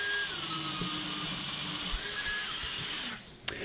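A belt sander running steadily on a flat wooden board, a continuous loud whirring grind with a faint tonal whine, cutting out near the end with a brief knock.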